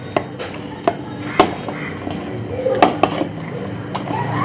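Fish pieces are tossed with chili powder in a bowl at home, a series of light clinks and scrapes against the bowl over a low background hum.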